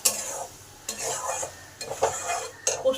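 A spoon stirring oil into ridge gourd and potato posto in a pan, several scraping, clinking strokes against the metal with brief pauses between, close and clear over a light sizzle, no speech.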